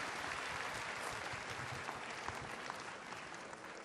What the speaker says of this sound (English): How about one last round of applause for our panelists?